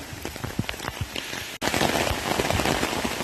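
Heavy rain falls through a forest, with dense, steady patter of drops on leaves and ground and a brief break midway before the downpour continues, no voices heard.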